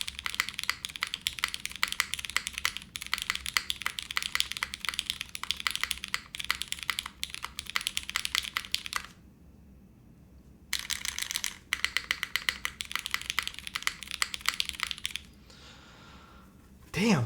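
Keys on a Monokei Kei V2 gasket-mount mechanical keyboard with copper accents are tapped in rapid, close, crisp clacking bursts, with two brief pauses before the typing resumes.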